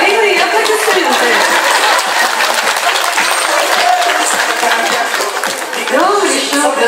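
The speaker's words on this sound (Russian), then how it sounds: "двойные аплодисменты" Loud, sustained applause from a live audience fills the hall, dense clapping continuing throughout with scattered crowd noise and a few cheers mixed in.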